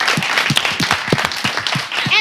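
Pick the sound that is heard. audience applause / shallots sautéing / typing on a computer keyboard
audience applause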